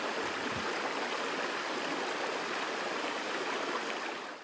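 River water flows in a steady, soft broadband rush, with a low thump near the start, then continuing evenly at a moderate distance with no voices.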